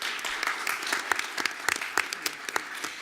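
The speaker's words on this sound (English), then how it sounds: "please join me and with a round of applause on welcoming our panelists" A room full of people welcomes panelists at a women of color in leadership panel discussion with sustained, dense applause of many hands clapping at once, steady and fairly loud throughout.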